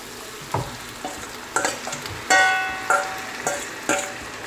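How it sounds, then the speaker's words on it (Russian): Tomatoes tipped into a pan of frying onion and bell pepper, giving several sharp bursts of sizzle and stirring scrapes at irregular intervals over a steady close background crackle. "Ну вот, лук с перцем поджарились, лук немножко подрумянился. Теперь выкладываем сюда помидоры."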